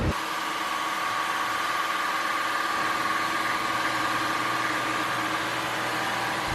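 A car engine idles steadily right after a clutch replacement, a continuous even hum with a faint high whine running through it and no talk over it.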